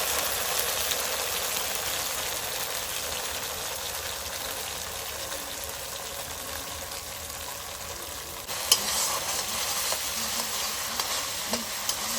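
Spice paste frying in hot oil with a bay leaf and dried red chillies for a Bengali mustard banana flower curry, a steady loud sizzle throughout with a brief clatter near the end.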